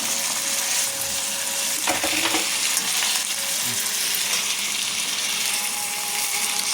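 Mushrooms, green beans and tomato being sautéed in a hot pan for noodles give off a loud, steady sizzle with occasional scraping stirs and clinks, close up and without talk.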